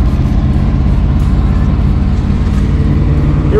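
A worn tow truck with bad brakes drives toward the freeway, its engine a steady, close-up drone with road noise and no talking.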